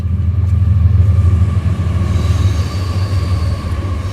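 A train rumbles past near a haunted attraction, a loud, steady low drone with a faint tonal hum throughout, holding close and constant without fading.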